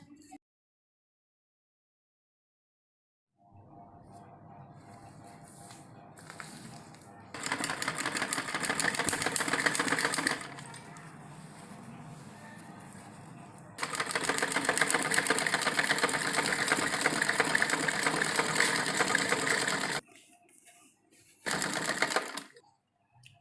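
A sewing machine stitching a salwar runs in bursts of rapid, steady mechanical clatter, near and fairly loud, with quieter pauses between the runs.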